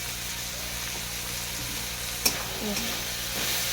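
Food being stirred while it fries in a pan with tomato and a little turmeric, an even close sizzle with one sharp clack of the utensil and a few soft scrapes, no talking.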